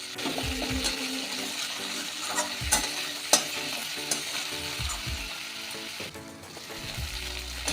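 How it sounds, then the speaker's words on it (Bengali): Crushed ginger fries with flat beans in a pan, giving a steady sizzle with scattered crackles and the scrape of stirring, close and continuous with no talking. "আদাটা ভাজা হয়ে গেছে"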